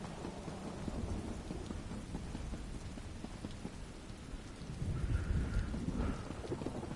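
Thunderstorm with lightning in the video game The Elder Scrolls Online, a steady downpour of rain with a deep thunder rumble swelling toward the end, no talk.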